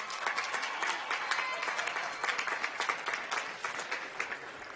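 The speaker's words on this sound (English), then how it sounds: "Let's give him a round of applause for that." Audience at a Pacific Union College commencement ceremony gives a graduate a round of applause, a steady, dense wash of many hands clapping at moderate distance for several seconds, with no talk over it.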